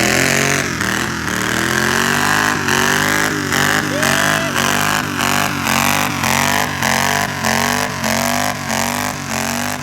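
A lawn tractor's engine roars steadily through a tractor pull, close and loud, its pitch climbing and wavering as it revs under load the whole time, with faint voices in the background.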